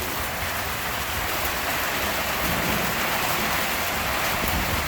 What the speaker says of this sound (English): Hail. As you get during Australian summertime.